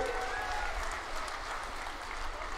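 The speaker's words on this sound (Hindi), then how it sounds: "सब ताली बजाओ बाबा के लिए" A large crowd claps steadily at an outdoor political rally in Jhajjar, Haryana, a dense continuous patter over a low rumble of the sound system and murmuring.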